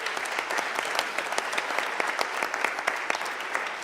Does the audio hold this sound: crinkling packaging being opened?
no